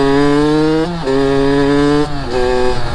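A Kawasaki KX85 two-stroke dirt bike engine revs close by with a raspy, buzzing drone that holds steady, dips in pitch, then climbs again in short bursts, with no talking.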